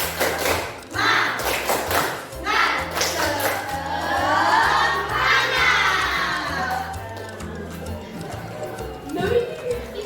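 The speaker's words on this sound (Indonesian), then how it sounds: "Tepuk semangat" A school group claps a fast, patterned rhythm together in a morning spirit clap, with children shouting along over music with a thumping beat.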